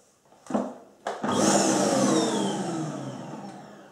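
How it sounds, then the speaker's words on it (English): A Hoover vacuum cleaner cleans a bathroom floor, starting with two short bursts, then settling into a loud, steady whine with broadband airflow noise, close and alone, slowly easing off. "Now it is time to use a Hoover to clean the floor."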